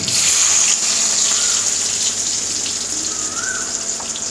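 Onions with mustard seeds and urad dal sizzling in hot oil in a kadai, a steady loud hissing fry that holds throughout with small crackles and no talking.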